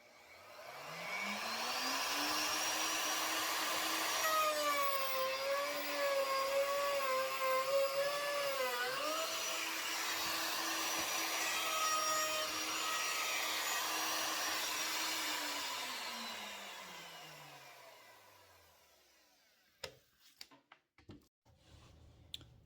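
A plunge router with a dovetail bit cuts a groove in wood for a pie-crust table pedestal. It spins up to a loud, steady whine with a rough cutting roar for about fifteen seconds, winds down, and light clatter follows.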